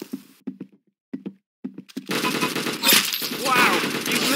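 Gunfire in a shooting video game, with a few short, separated knocks before a dense, loud burst of rapid shots and explosions that carries on to the end.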